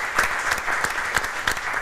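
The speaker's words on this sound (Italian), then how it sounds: "un applauso ragazze" Brief burst of steady clapping from a small group, moderately loud, with a few sharper individual claps standing out.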